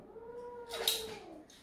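A cat gives a drawn-out, rising and falling yowl while restrained for a pre-surgery blood draw at a veterinary clinic, close and fairly faint, with no talk.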